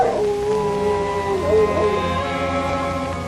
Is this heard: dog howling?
yes